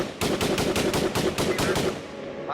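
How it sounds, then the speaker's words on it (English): A rapid burst of about nine sharp gunshots in even succession, loud and close, like automatic weapon fire. "the crack of gunfire split the air"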